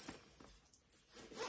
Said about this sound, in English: and zip it up